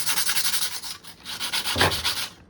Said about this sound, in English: So I'll start with my 60 grit sandpaper and kind of just come in.